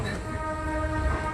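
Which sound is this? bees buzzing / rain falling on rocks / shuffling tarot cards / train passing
train passing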